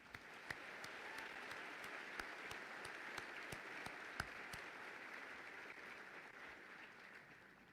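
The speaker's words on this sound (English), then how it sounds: "Please join me in a round of applause for my cadre." Applause for battalion cadre at an Army basic training graduation ceremony, a steady wash of clapping from a large crowd, fairly faint and distant, with a few sharper individual claps standing out and no talk over it.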